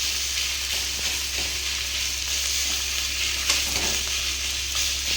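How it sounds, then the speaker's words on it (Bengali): Fish roe and fried potatoes sizzling in a pan, a loud, steady hiss of frying oil running unbroken from start to finish with faint stirring. "আলুটা বেশ ভাজা ভাজা হয়ে গেছে, এই সময়টা আমি ডিমটা, মাছের ডিমটা দিয়ে এবার আমি এটাকে"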